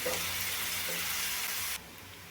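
Onion with a spoonful of salt frying in a pan until pink, a dense close sizzle with faint stirring that drops abruptly to a quieter hiss near the end.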